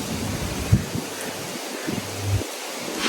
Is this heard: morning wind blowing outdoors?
yes